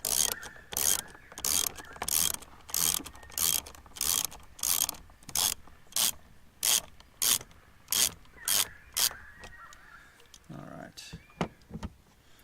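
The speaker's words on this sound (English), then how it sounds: "I'm going to undo the hose clamp down here, Jubilee clip, we call it in England. 7mm socket." A ratchet with a 7mm socket works a Jubilee hose clamp on a Mk7 Fiesta ST, giving rapid clicking bursts in a regular rhythm, close up, with a few scattered clicks and a pause near the end.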